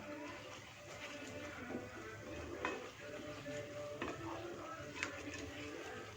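Curd stirred and sautéed in hot oil in a pan for chicken dum biryani gives a steady low sizzle, with occasional spoon taps and scrapes against the vessel, close and fairly quiet.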